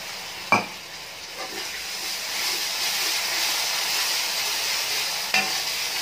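Water hits a frying soya chunk mixture in a pan, bringing a sharp splash and then a sustained, loud hiss of steaming and sizzling, with a second clatter near the end.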